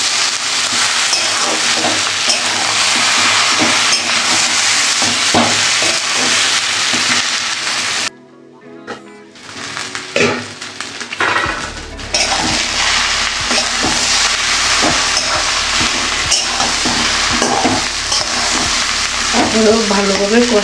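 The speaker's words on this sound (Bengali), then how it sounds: "ভালোভাবে কষিয়ে নিচ্ছি" Cabbage sautés in a pan with a little sugar, a loud crackling sizzle with stirring scrapes that drops away briefly in the middle before the frying resumes strongly.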